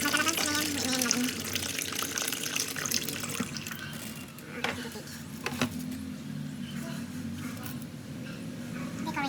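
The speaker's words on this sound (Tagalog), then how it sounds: "lagyan ko siya ng tubig guys kasi gusto kong mag-ano siya, maarapaw ang tubig" Water is poured into a pot of vegetable curry with sweet potatoes, giving a steady splashing flow heard up close that runs throughout, with some clatter and faint background sounds.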